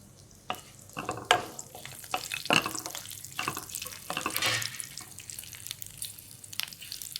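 Cumin, mustard seeds, curry leaves, green chillies and sesame seeds fry in oil, giving close crackling sizzle with sharp sputtering pops and stirring scrapes scattered irregularly throughout.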